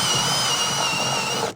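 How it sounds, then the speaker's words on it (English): A power drill boring a hole during paintless dent repair work runs with a steady, continuous high-pitched whine for over a second, then cuts off abruptly. "We're gonna drill a hole."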